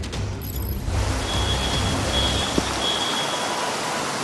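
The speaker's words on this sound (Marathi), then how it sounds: "सोसाट्याचा वारा आणि जोरदार पाऊस सध्या पुण्यामध्ये पाहायला मिळतोय" Heavy rain with strong wind roars continuously on a Pune street, low rumbling gusts, a steady dense wash of noise and a brief thump partway through; no voices.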